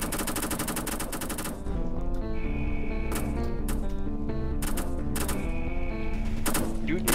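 Rapid bursts of gunfire from an SCP breach video game, a fast automatic volley opening the clip, then sparse scattered shots over a steady loud ambient game drone and music-like tones.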